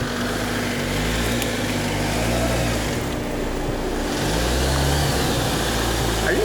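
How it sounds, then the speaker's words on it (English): A Honda Civic Si with a 2-liter turbocharged four-cylinder engine drones steadily while driving, a close, continuous engine rumble with shifting tone throughout. "this is Honda's 2-liter turbocharged Earth Dreams technology 4-cylinder"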